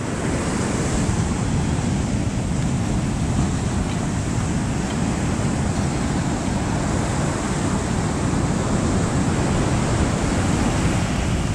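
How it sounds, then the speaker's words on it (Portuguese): Ocean waves on Copacabana beach in Rio de Janeiro, a dense and continuous surf roar that stays loud and steady throughout, with no speech. "Tamanho das ondas."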